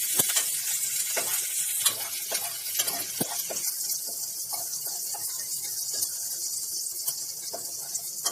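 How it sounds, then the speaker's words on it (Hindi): Onions fry steadily in hot oil with cumin and carom seeds, a dense, continuous close sizzle with occasional stirring scrapes and no voices throughout. "प्याज को ट्रांसलूसेंट होने तक भुनेंगे"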